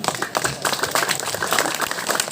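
Applause and clapping from the audience at a Balinese bondres comedy performance, a steady dense patter of many hands lasting the whole stretch at moderate loudness, with no talk over it.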